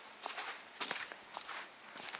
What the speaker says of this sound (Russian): Собачки бегают.